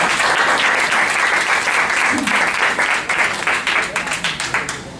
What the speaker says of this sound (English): let's all give a warm applause for Derrick Mapagu.